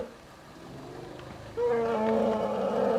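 Elephants vocalize on the savanna: a low, rough, roaring call starts partway through and grows louder and more tonal, sounding fairly close over faint background noise.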